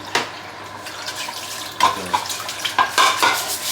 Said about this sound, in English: And you want to clean your pan right away so that eggs don't stick.